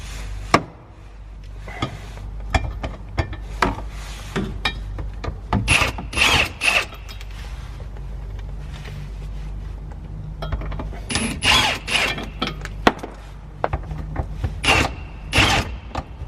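Small bolts come off a Cardan prop shaft bearing plate on a Cayenne, Q7 or Touareg, with scattered metallic clicks, taps and ratcheting bursts in irregular clusters, close up over a low background hum, with no talking.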